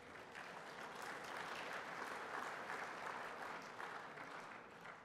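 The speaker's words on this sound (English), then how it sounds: "give yourselves all a round of applause" Sustained applause from a conference audience, dense steady clapping filling the whole stretch with no voices over it.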